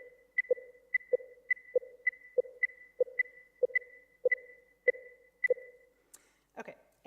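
Two interleaved streams of short synthetic tone pips for an auditory attention experiment, one higher and one lower, pulsing steadily at a regular rhythm, quiet and alone, with a brief noisy rustle at the end.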